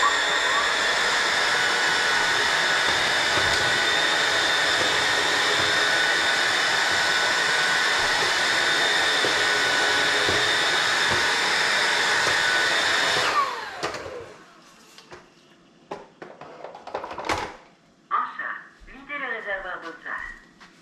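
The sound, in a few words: Roborock Dyad wet-dry vacuum running its self-cleaning cycle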